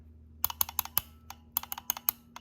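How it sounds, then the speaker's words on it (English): An electromagnetic relay clicking: a series of sharp, close clicks in irregular clusters, crisp mechanical snaps separated by short quiet gaps. "Well, it was clicking."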